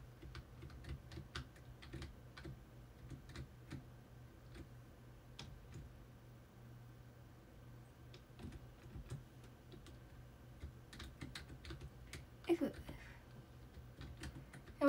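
Computer keys clack in quick irregular bursts, close and soft, while someone plays a shooting game, and a voice talks now and then over the tapping.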